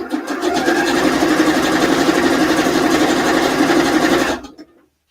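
A sewing machine runs steadily for about four seconds, sewing long temporary stitches in one continuous loud burst before stopping abruptly, with no talking.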